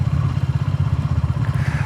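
A 20 hp motorcycle engine while riding, a steady close low throbbing pulse with rhythmic beats and faint wind rush, no talk.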